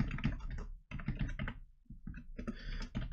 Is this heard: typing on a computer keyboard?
yes